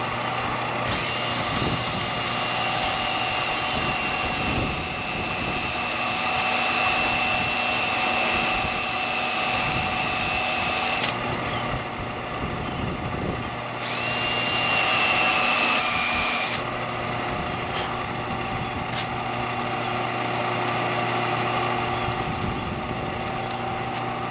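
A sander and a drill spinning in opposite directions reshape a wheel in a loud, continuous whirring drone, with one motor's pitch rising and dropping out at times, close by.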